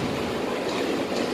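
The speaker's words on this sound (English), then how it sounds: "Okay, nandito ng train, sasakyan na natin ng train" Train at a station in Bangkok, Thailand, a steady broadband rumble of rail cars rolling past close by, continuous and fairly loud with no voices over it.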